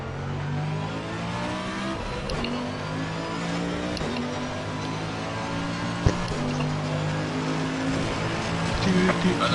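Simulated AMG race car in the Assetto Corsa racing game, engine droning steadily at high revs with shifting tones and a brief sharp knock midway, continuous and fairly loud throughout.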